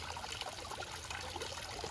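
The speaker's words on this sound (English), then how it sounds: "inserted into that little riverway there, that little creek, and it's just absolutely just gorgeous. Just look at that, and the sound." A small backyard creek trickles over rocks, a steady close-up wash of running water with a bubbling, splashing texture and no voices.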